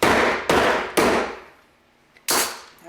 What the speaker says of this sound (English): I have a 1-pound brass mallet, and I'm just going to hammer this through.